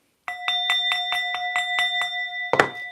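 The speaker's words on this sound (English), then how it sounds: "I am going to be hitting the bell" A bell rung in rapid repeated strikes, about ten bright metallic rings in a quick even rhythm, ending in a louder clash, close and clear with no talk.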